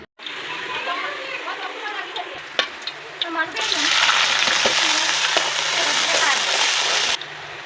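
Onions drop into hot oil in a kadai and erupt into loud, continuous sizzling, with a few clinks and stirring sounds before and during the frying.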